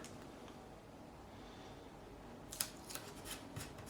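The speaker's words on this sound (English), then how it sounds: "What I'm going to do is take some tape that side, some tape this side." Masking tape is pulled and pressed along the fretboard of an Epiphone Les Paul Standard during a fret repair, making a few faint, quick tearing crackles near the end after a quiet room hush.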